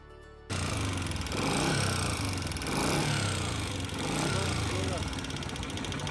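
A CG 125 motorcycle engine idles steadily right after a kick start, a loud continuous rumble with a rhythmic tick from the head, close by and alone after a brief quieter moment at the start.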